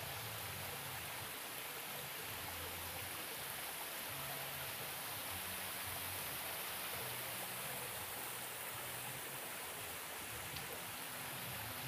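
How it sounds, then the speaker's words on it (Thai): Spring-fed water pouring continuously over rock slabs in a natural-style garden waterfall, a steady rushing hiss with no pauses, fairly quiet and heard on its own. "เป็นน้ำตกน้ำซับ"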